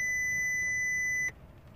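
A steady, loud electronic warning buzzer from a 2005 VW Golf instrument cluster drones for just over a second, then cuts off abruptly, leaving a faint hum.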